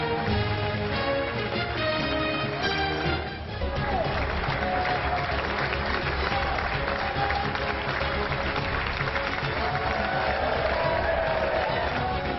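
A large crowd applauds and cheers for the newly elected UK prime minister and Conservative Party leader, with steady dense clapping and voices running throughout at constant volume.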